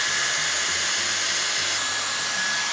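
Hair styling tool running at full power after switching from idle, a loud, steady close-up blowing whir with a constant motor hum and no breaks.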